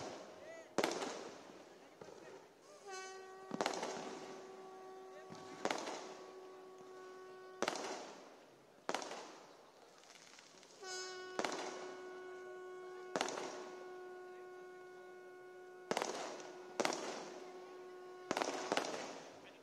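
Repeated sharp firecracker bangs go off at irregular intervals, some followed by crackling bursts, while a loud amplified voice speaks throughout at a political rally in Kalyan.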